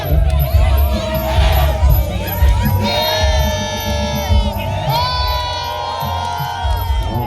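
A crowd cheers loudly at a youth Muay Thai boxing match with a 40,000 baht stake, a dense roar of shouts and rising and falling chanted calls that swells in waves and carries on throughout.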